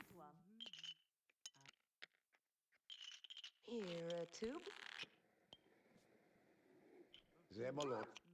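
Poker chips clinking and rolling with cards handled at a table in The Sims 2 video game, small scattered clicks and rattles mixed among Sim voices chattering over them.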